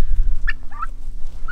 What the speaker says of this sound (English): Funny thing about these turkeys is that I think they're all hens